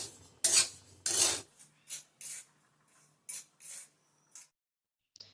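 Rice for chakli flour dry-roasting in a pan over low heat, heard as a series of short dry scraping and rasping strokes with brief pauses between them, close and quiet, no voices.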